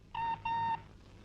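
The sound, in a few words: telephone ringing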